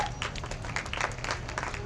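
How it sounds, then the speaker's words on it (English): A parade crowd claps and applauds for US Submarine Veterans at a Veterans Day parade in Lake Havasu City, Arizona, a dense, steady patter of hands from a distance with faint crowd murmur underneath. "Huge reaction from the crowd on this one."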